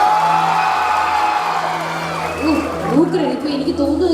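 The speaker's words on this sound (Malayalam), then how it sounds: "ഇനി ഇടതുവശംകാരൊന്ന് കൈയടിച്ചേ." Audience on the left side of a live stage show claps and cheers in a sustained burst, with whoops and shouts rising toward the end over steady crowd noise.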